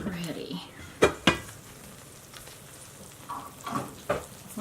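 Fried apples in butter sizzle softly in a pan, a steady low crackle broken by a few sharp clinks of a spoon or utensil against the pan, with faint speech.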